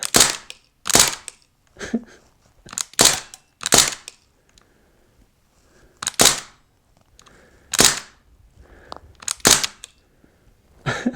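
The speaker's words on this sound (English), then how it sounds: "I'm open sights here, so it's a BB rifle." Sharp, loud BB rifle shots fired with open sights at a target trap, coming in irregular bursts of single cracks, some in quick pairs, with short pauses between them and no talking.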